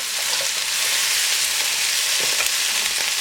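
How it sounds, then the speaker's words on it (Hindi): Cashews and spices sauté in hot oil over a high flame, giving a steady, loud, dense sizzle with faint stirring scrapes throughout. "इसे भी आपने यहाँ पर जो है हाई फ्लेम पर सौटे करना है तमाम चीज़ों के साथ में 2 से 4 मिनट के लिए"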